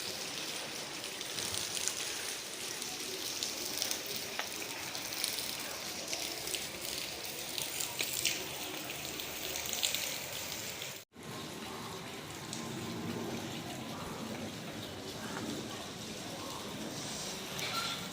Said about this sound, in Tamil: சென்னையில் வேளச்சேரியில் மழை நல்லா பெஞ்சின்னு இருக்குது